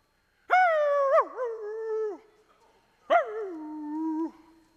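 A human voice imitates a hound dog howling on a porch, giving two long, wavering howls close up with a pause between them.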